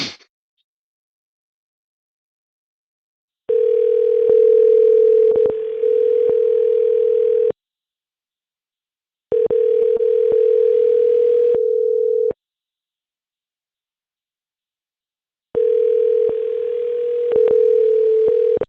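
A telephone dial tone sounds while a number is being called, a steady tone repeating in three long bursts separated by silent gaps, with faint clicks within each burst.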